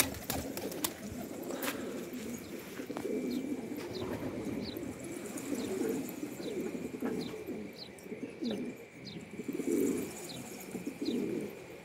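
Pigeons coo softly in a loft, with repeated low throaty calls at a moderate distance, joined by occasional faint chirps against a quiet, steady background.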